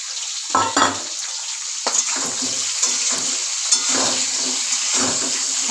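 Potatoes frying with pointed gourd in a pan, a loud close hissing sizzle with a few scraping stirs and knocks of a spatula against the pan.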